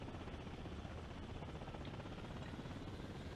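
Helicopter rotor and engine drone from the video game Thunder Helix, a steady dense whir running throughout at moderate level after a touchdown on a landing pad, with no voices.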